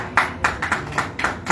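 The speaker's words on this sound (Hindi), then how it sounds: "चलो तालियां" Several people clap in a loose, uneven rhythm at a book launch gathering, a handful of sharp bursts spaced through a short moment, fairly close and moderately loud.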